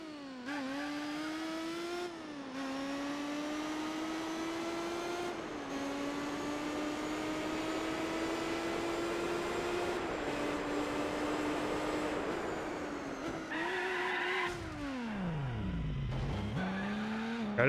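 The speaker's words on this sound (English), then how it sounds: "What an interesting sounding car." A Cadillac race car engine in the video game Gran Turismo 4 drones loudly and alone, its pitch climbing steadily through long pulls with brief dips at gear changes, then dropping and swooping near the end.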